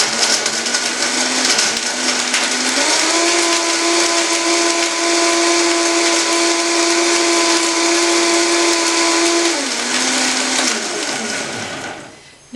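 A countertop blender with its lid on whirs loudly and steadily as it pulverises almonds and large dates into almond milk, shifting pitch a couple of times before spinning down near the end.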